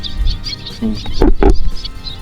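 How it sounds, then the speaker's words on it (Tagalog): Large birds calling at a nesting site, a few loud harsh squawks in quick succession near the middle, with fainter high chirps before them, close by. "Yung malalaking ibon dito. Dito sila nangingitlog."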